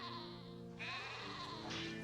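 Sheep bleat in the city-building video game Caesar 3, two drawn-out wavering calls sounding over a continuous game soundtrack.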